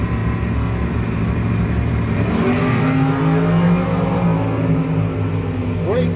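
Two Camaro drag race cars launch and roar side by side at a No-Box 660 drag strip, their engines loud, close and continuous, rising in pitch as they accelerate down the track.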